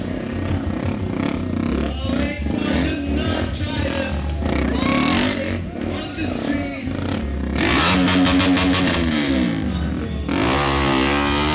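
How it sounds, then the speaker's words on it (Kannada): Stunt motorcycles at a crowded stunt show roar and rev loudly throughout, with engine pitch rising and falling, mixed with crowd noise, whistles and cheering. "ಝೂಮ್ ಝೂಮ್ ಸದ್ದು, ಪ್ರೇಕ್ಷಕರ ಸಿಳ್ಳೆ, ಕೇಕೆ ಮುಗಿಲು ಮುಟ್ಟಿತ್ತು."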